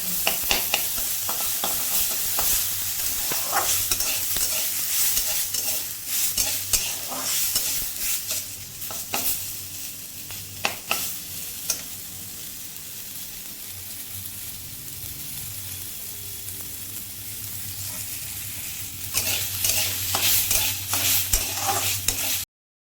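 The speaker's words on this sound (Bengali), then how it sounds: "এটাকে এখন ভেজে নিচ্ছে ভালো মতো করে" Banana flower frying in a pan with a constant sizzle, broken by repeated scraping and clattering of a spoon stirring, close up.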